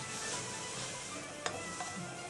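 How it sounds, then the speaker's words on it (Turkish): Pepper and tomato paste sauté in a pan for hamur soup, giving a steady soft sizzle with a couple of faint utensil taps as it is stirred, close and quiet. "biber ve domates salçasını katalım. Şöyle salçanın kokusu gidene kadar kavuralım."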